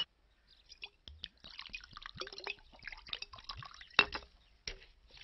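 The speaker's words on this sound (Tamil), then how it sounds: "எனக்கு சோடா மட்டும் ஊத்து" Soda poured into a glass, a soft liquid trickle with drips and small clinks among low background movement, one sharper knock near the end, with no talking.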